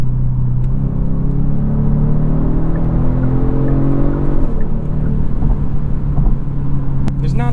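Steady engine drone from a 2022 Genesis G70 3.3T with artificial sound piping into the cabin, a smooth, somewhat vacuum-like hum that rises in pitch as the engine revs, heard continuously from inside the car.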